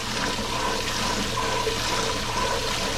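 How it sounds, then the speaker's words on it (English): Cold water pours and gushes into a pot of freshly boiled eggs in a kitchen, a steady, close, full rush of running water that lasts throughout with no talking. "we're gonna put some cold water in here"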